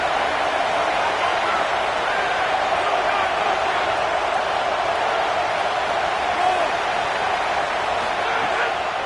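Football stadium crowd at a Georgia vs Tennessee game roars in a steady, dense wash of noise, loud and unbroken across the whole stretch.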